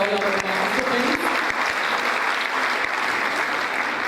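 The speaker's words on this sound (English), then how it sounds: "Can I have a round of applause for all our participants?" An audience applauds quiz participants at a Hindu culture and lifestyle community event in Kenya, with dense, steady clapping that fills the whole stretch and a short bit of speech at the very start.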